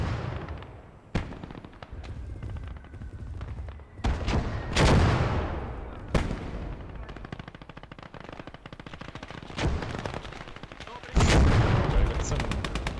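Machine guns and other gunfire rattle across a battlefield in the WWII strategy game Gates of Hell during a 2v2 PvP match. Sharp bursts and sudden loud blasts recur through a dense, continuous crackle of combat.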